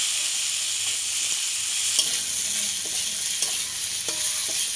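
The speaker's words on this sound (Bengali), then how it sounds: "এই পেঁয়াজ দিয়ে ডুমুরটা আবারও আমি খুব সুন্দর করে ভেজে নেব।" Chopped figs and large sliced onion frying in a pan, a loud continuous hiss of hot oil with a few light spatula scrapes as they are stirred, close up and without speech.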